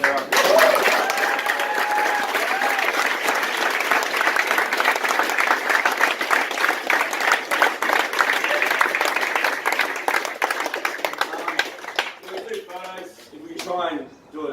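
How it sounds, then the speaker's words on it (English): A crowd applauds at a talk, sustained loud clapping for about twelve seconds before fading out, with brief chatter and a voice emerging at the end. "A round of applause, everyone."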